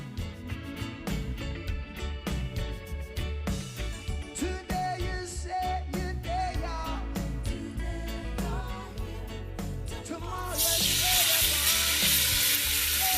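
Pork pieces sear in a spoonful of hot oil in a pan for Jamaican-style brown stew, a steady loud sizzle broken by regular scraping and stirring knocks, intensifying into a harsh hiss near the end.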